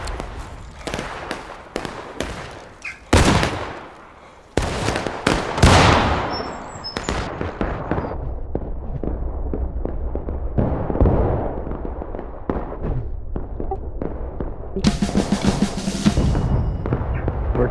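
Repeated gunshots crack out during a battle reenactment at a railroad cut, some sharp and near, others farther off, with scattered single reports and short volleys over a steady rumble of outdoor background noise.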